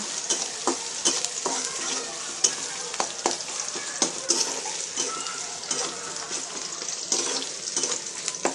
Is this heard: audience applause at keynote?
no